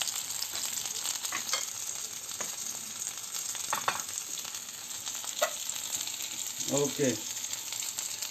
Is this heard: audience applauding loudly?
no